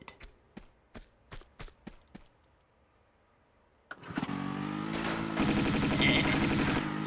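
Gunfire in a Lara Croft video game comes as seven sharp, evenly spaced shots, then a pause, then a loud, sustained engine-like roar that builds and carries on to the end.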